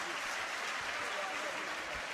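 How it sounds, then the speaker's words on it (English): Sustained applause from an audience at a results announcement, a steady, fairly distant wash of clapping with faint voices underneath. "just give Montserrat a very big hand of applause"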